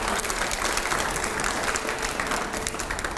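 Steady, dense applause plays in a TV studio during a debate show, loud and continuous for a few seconds with no voices over it.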